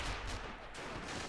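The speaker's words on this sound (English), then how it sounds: "The mortar is shooting, though." A mortar fires in a WWII battle video game, heard as dense overlapping booms and rumbling blasts that fill the short moment, loud and close with no talk.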